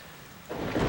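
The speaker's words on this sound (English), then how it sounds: "Wow, this storm is it's really bad, huh?" Steady rain during a thunderstorm, with a deep roll of thunder swelling in about halfway through and growing loud; no voices.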